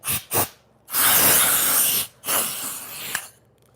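A spray canister hisses in two short bursts, then two longer sustained sprays with brief pauses between, close and fairly loud.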